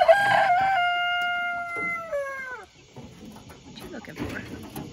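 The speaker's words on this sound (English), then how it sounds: "What are y'all guineas doing? Going to bed?" A long, loud, wavering crow-like call from poultry at bedtime carries close up, followed by softer clucks and rustling, and a person's voice is heard nearby.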